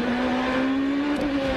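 Onboard engine note from Paul Tracy's race car at the 2003 Grand Prix of the Americas, a steady, loud, continuous drone with a slight rising pitch, heard close from the cockpit.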